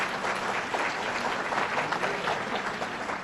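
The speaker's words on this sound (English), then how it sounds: "Let's give them a round of applause" An audience applauds the county executive and the mayor at a governor's budget presentation in Amherst, with steady, sustained clapping from a large crowd heard at moderate distance throughout.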